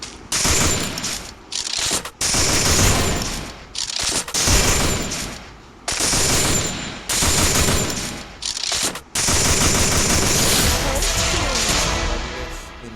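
MP40 submachine gun fire in the Garena Free Fire video game, loud rapid bursts that repeat with short gaps, with explosions and impacts mixed in and no talking.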